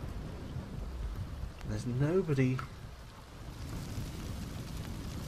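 Rain and thunder in The Sims 2 video game, a steady low rain hiss and rumble running throughout, with someone speaking briefly over it.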